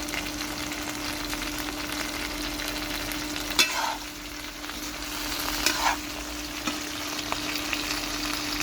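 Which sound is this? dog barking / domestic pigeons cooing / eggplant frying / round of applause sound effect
eggplant frying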